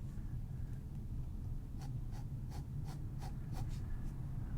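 A fude fountain pen nib scratches across paper in a series of short, faint strokes, about eight quick scritches in a loose rhythm over a soft background hiss.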